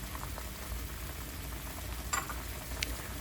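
Pieces of food simmer in a pot of darkening, reducing liquid, giving a steady close bubbling hiss with two brief sharper clinks as they are turned.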